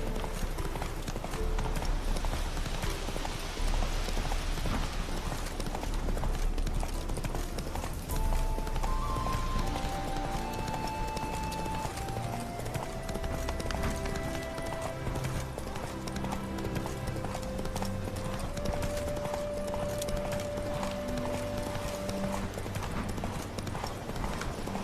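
Roach, a horse in The Witcher 3, gallops with a steady, fast clip-clop of hooves that runs throughout, with music tones layered over it and a brief whinny.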